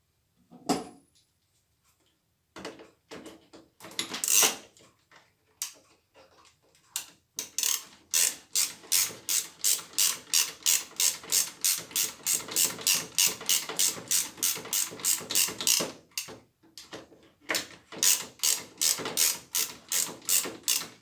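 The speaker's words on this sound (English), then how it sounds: "tighten the start-stop, the brand new start-stop valve." Ratchet tool tightening a new start-stop valve on a Nilfisk E-series pressure washer: a few scattered clicks, then a fast, regular train of sharp ratcheting clicks with short pauses, close and alone.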